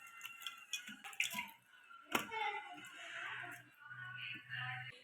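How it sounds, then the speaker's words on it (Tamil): Okra being washed by hand in water in a home kitchen for pickle, with soft splashing, dripping and handling sounds, a brief sharper knock near the middle, no talking. "வெண்டைக்காய் நல்லா வாஷ் பண்ணிடலாம்."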